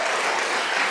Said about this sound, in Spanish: Con un gran aplauso a la ministra Carolina Corcho.